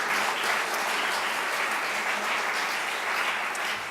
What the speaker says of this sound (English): let's first give a big round of applause to the great class of